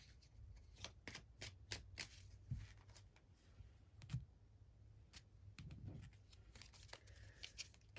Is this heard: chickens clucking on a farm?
no